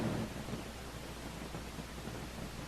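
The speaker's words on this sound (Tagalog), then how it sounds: "May bagyo." A thunderstorm with heavy, steady rain and deep rumbling thunder, loud and continuous throughout with no voices.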